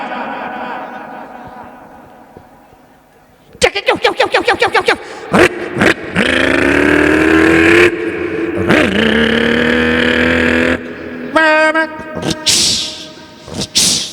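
A voice imitates a truck with a burst silencer: a rapid string of sputtering pops, then a loud sustained revving roar that surges and drops, ending in sharp bursts and a hissing release.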